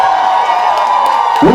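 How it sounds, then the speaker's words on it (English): A crowd at an awards and cocktail event lets out a brief, loud burst of cheering and whooping, with voices mixed into the noise. "Y'all give her another round of applause."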